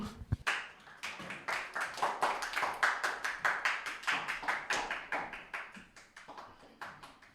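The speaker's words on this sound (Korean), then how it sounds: "서로에게 한번 격려와 응원의 박수 한번 쳐줍시다." A church congregation at a youth Sunday worship service claps together in steady, dense applause that starts abruptly and carries on for several seconds before gradually thinning out, with no talking over it.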